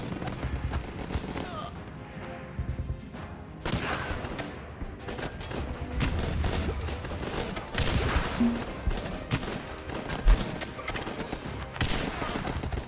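Gunfire from the game Guns Up!, with repeated shots crackling through a busy battle mix, some sharp bursts standing out near the end.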